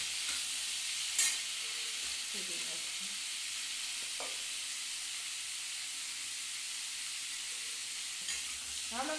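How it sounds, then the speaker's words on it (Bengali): Potatoes and onions frying together in a pan, a steady soft sizzle and hiss running throughout with occasional brief stirring scrapes and clinks. "এর মধ্যে আলু পেঁয়াজ একবারে ভেজে নিচ্ছি"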